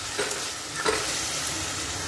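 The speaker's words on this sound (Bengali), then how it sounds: "সবজিটা একটু ভাজা ভাজা হওয়ার পর বাটা মশলাটা দিয়ে দিলাম।" Vegetables for a spinach dish fry in a pan as ground spice paste goes in, a loud, continuous close-up sizzle with a couple of brief stirring clinks and no talking.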